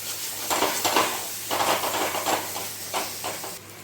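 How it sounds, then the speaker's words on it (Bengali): Spice masala with salt being sautéed for a rohu fish and mint dish: a steady close sizzle with repeated scraping and stirring strokes against the pan, no voices. "নুন দিয়ে আরেকটু কষিয়ে নিচ্ছি"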